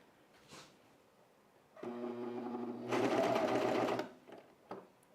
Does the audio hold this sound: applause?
no